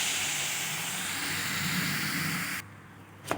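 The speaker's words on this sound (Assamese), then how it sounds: "চাওক উতলি আছে।" A pot of lentil mixture with lemon boils with a steady close hiss and bubbling for under three seconds, then drops off, ending with a faint knock.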